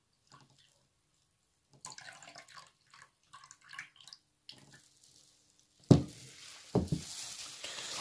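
Water drained off freshly churned goat milk butter and poured into a vessel, soft trickles and drips at first, then a louder splash and steady pour near the end, close and quiet.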